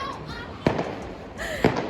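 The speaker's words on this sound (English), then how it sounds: "you can probably hear all the fireworks too" Fireworks bursting during a Diwali celebration in India, two sharp loud bangs about a second apart over a steady background of distant crackling and whistling, with some voices nearby.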